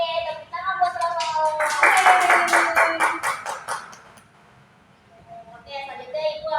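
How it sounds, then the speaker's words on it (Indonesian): A classroom of students gives a short burst of rapid, fairly close applause for a classmate, lasting about two seconds, with a teacher's voice before and after it. "tepuk tangan buat Romo"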